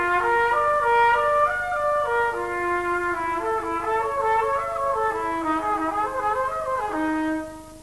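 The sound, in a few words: trumpet warm-up playing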